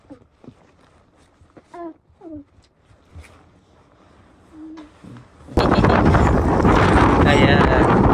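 Strong wind buffets the microphone with a loud, continuous roar that suddenly starts midway, after a few quieter moments of scattered voices.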